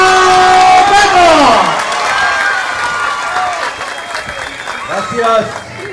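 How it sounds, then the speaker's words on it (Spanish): A large crowd at a Gustavo Petro political rally in Sincelejo, Sucre, bursts into loud, sustained applause and cheering, with an amplified voice over the sound at the start before it tapers into scattered clapping. "Recibamos con un fuerte aplauso a Gustavo Petro."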